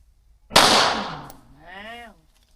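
A single loud gunshot rings out at an outdoor firearms training range in Phu Kradueng district, a sharp crack followed by a decaying echo, then a brief voiced sound near the end of the burst.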